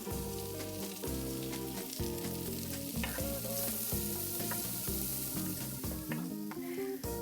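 Carrots and red pepper sizzle and fry steadily in a pot for a chicken pot pie filling, a continuous close hiss punctuated by the knocks and scrapes of stirring, with no talking.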